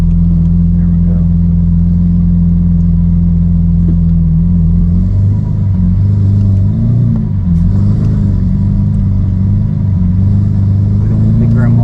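A car engine hums low and loud from inside the cabin, holding steady before climbing in pitch as the car accelerates and drives on, with people talking over the rumble.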